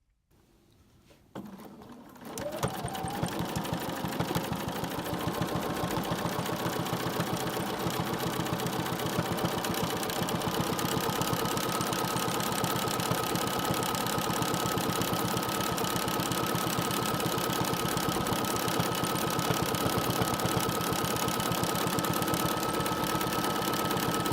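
A sewing machine free-motion quilts shamrocks, starting up after a quiet moment and then running at a steady, fast, loud mechanical hum close by with no talk.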